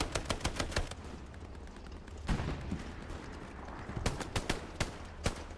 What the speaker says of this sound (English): Pistol versus grease gun.